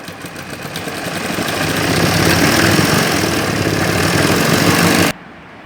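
A sewing machine stitches baby shorts with a fast, steady motor whir and rapid needle rhythm, close and loud, running about five seconds before stopping abruptly.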